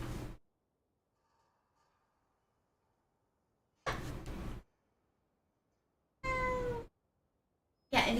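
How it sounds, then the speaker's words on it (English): A house cat meowing in a few separate, fairly loud calls, each under a second, with long quiet gaps between them; the last call is drawn out and rises in pitch. "This cat."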